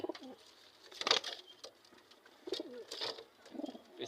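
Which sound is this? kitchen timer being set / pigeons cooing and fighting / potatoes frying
pigeons cooing and fighting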